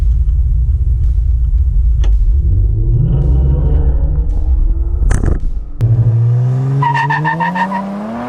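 A Ford Explorer ST with intercooler, downpipes and tune launching at full throttle: a loud, close engine roar rising steadily through the revs, with a brief tire chirp and a sharp mechanical pop partway through.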